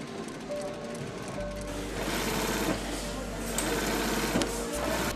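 A sewing machine stitches Rolls-Royce leather upholstery, running in a steady whirring drone with brief pauses, close and fairly loud, while a voice narrates over it.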